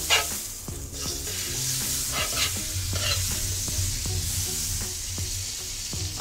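Butter sizzles steadily in a hot pan, a loud, close, continuous frying hiss with small crackles and pops throughout and no talking.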